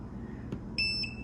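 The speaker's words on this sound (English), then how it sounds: "You can hear the beep. It's picking up the electrical current running through the wall here." A short electronic beep from a voltage detector held near a live wire in a wall sounds near the end, high and piercing, following a faint click over low background hum.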